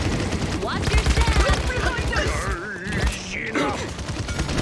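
Rapid enemy gunfire from a Paladins hero-shooter match, bursts of fast repeated shots crackling through a busy game mix with a player voice talking over it.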